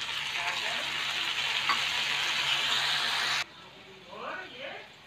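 Finely chopped tomato goes into eggplant curry frying in a pan, making a steady close sizzle with faint stirring, then the sound drops suddenly to a quiet background.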